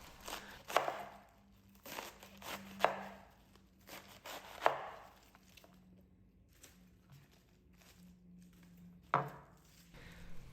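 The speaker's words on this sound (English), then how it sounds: "And then slice them up, the stalks." A knife chops through small cabbage stalks on a cutting board at home while kimchi is being prepared, giving a run of soft, crisp cuts in an uneven rhythm, quiet and close.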